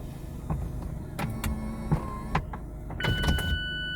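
Power-operated retractable roof motor of a Mazda MX5 RF whirring in short stages, with distinct clicks and latch clunks between motor runs and a higher whine near the end, heard close up inside the car.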